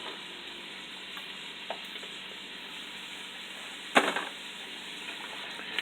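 Onions sautéing in butter in a pan, a steady broadband sizzle throughout with a louder clatter of stirring near the middle, close and fairly quiet with no talking.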